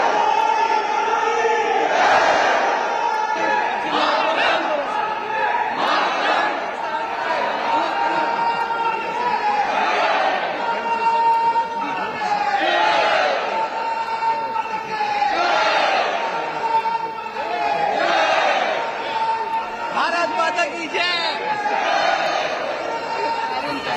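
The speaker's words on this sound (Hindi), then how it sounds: "तो आप सुन रहे हैं भारत माता की जय का उद्घोष।" A large crowd of Indian supporters in China chants "Bharat Mata ki Jai" in loud, repeated rhythmic waves of massed voices, cheering throughout.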